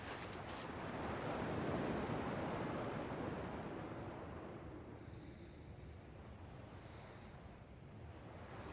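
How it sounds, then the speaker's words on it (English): Ocean surf from the Kingdom Hearts II video game, a continuous broad wash of waves rolling in and receding, steady and fairly loud with no voices. "At least the waves sound the same."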